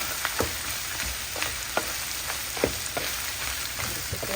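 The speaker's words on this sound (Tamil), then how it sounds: "அதையும் தாளிக்கிறேன்." Spices and onions fry in hot oil for biryani, making a steady close sizzle with scattered sharp pops and crackles throughout, with no talking.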